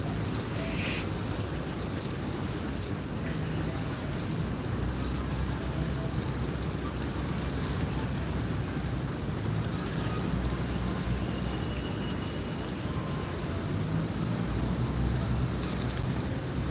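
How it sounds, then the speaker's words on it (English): A big river ferry passes on the Chao Phraya in Bangkok, heard as a steady low engine rumble and water wash mixed with wind noise, continuous and fairly distant, with no talking. "Now I see another big ferry coming, which is right behind this ferry."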